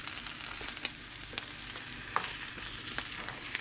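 A bitter melon (bitter gourd) omelette sizzles steadily in a frying pan as it is flipped, a continuous crackling hiss broken by a few sharp clicks and scrapes, close by with no talking.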